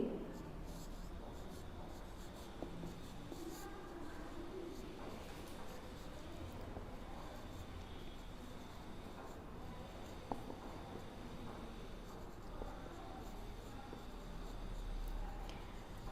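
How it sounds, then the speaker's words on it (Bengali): Chalk or marker writing on a classroom board during a primary-school geometry lesson, a continuous faint scratching that runs throughout under a teacher's voice. "এখন আমরা এটার সংজ্ঞাটা লিখে ফেলি"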